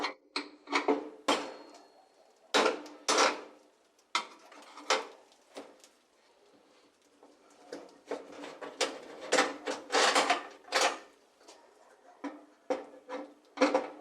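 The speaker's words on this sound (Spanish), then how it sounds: "procedemos a desenroscar con la ayuda de un destornillador" Small metal and plastic clicks, taps and rattles as a Phillips screwdriver loosens the fixing bolts on a built-in kitchen hob being dismantled, in irregular close bursts with brief quiet gaps.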